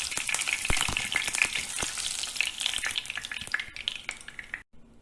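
Vegetables frying in hot oil over high heat for a Bengali khichdi, a loud continuous crackling sizzle with sharp pops and stirring scrapes, alone and close.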